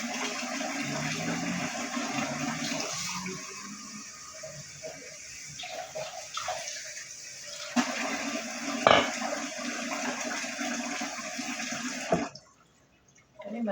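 Water runs and gushes from a tap, a steady splashing stream with a brief knock partway through, cutting off abruptly near the end.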